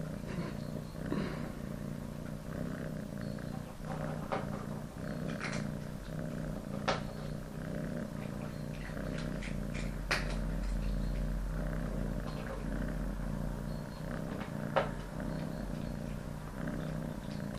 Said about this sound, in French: Le ronronnement d'un chat, par exemple, tel que vous pouvez peut-être l'entendre sur cet audio